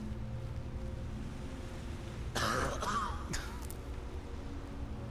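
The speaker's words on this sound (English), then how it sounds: "It's a gross cough noise." A person gives a short, harsh throat-clearing cough midway, standing out over a steady low background hum.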